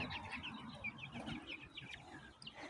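Many young chickens, about forty days old, chirping and peeping together in a busy, continuous chorus, close by, with soft rustling underneath.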